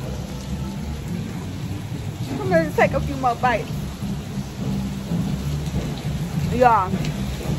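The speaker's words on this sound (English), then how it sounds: "It is pouring rain" Heavy pouring rain hisses steadily with low rumbles of thunder throughout, close and loud, while people talk over it outdoors.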